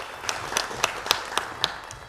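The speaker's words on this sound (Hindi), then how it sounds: "इनके लिए तालियां होनी चाहिए।" A handful of slow, separate claps, about seven, ring out in a quiz show studio for a team advancing to the semifinal, close and crisp against a quiet background.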